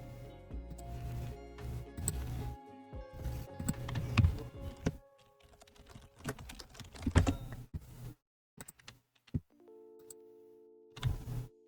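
Keys pressed and mashed on a computer keyboard, with dense clattering bursts of typing in irregular clusters, loud and close, pausing between runs, alongside faint steady tones in the background.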